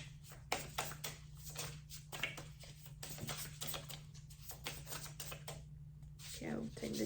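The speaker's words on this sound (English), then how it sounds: "I'm gonna shuffle a little bit more." Tarot cards are shuffled and tapped in quick, uneven bursts close by, with a soft voice speaking intermittently over the papery clicks.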